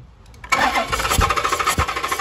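A 2013 Dodge Challenger 6.4L engine being cranked during a misfire diagnosis, the starter kicking in after a quiet moment and then chugging in a steady, rapid rhythm, loud and close.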